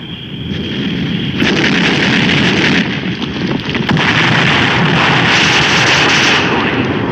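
Artillery shells bursting in a 1951 war film battle scene, a loud continuous barrage of explosions and gunfire rumbling without pause, with no talk over it.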